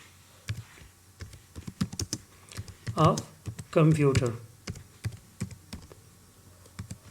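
Typing on a computer keyboard: steady clicking keystrokes throughout, close and crisp, while someone talks over them in Hindi.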